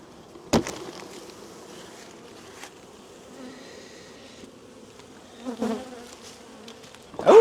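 Honeybees flying around an outdoor hive on a cool day, a steady close buzzing drone with a few louder passes near the listener and no talking.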